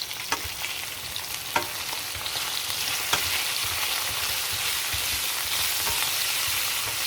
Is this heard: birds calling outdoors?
no